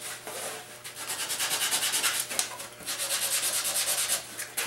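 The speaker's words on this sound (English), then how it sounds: "Now I'm just going to clean this up a little bit with some sandpaper." Sandpaper rubbed by hand over the wooden body of a guitar kit, a close, steady rhythm of raspy back-and-forth strokes with brief pauses between runs.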